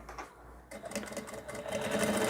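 A sewing machine backstitches at the collar of a rag doll's dress, starting after a brief quiet moment and then running in a steady, close, rapid stitching whirr that grows slightly louder.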